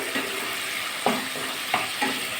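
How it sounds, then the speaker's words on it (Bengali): Tomatoes being mashed with a spatula in a frying pan over a steady sizzle, with four soft pressing, scraping strokes spaced about half a second apart, close, no speech. "টমেটোগুলো খুন্তিতে একটু ম্যাশ করে দিচ্ছি"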